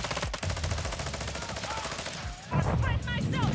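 Rapid bursts of gunfire from Call of Duty: Warzone 2.0, dense and continuous, with shots close and loud throughout and a heavier volley near the end, under faint voices.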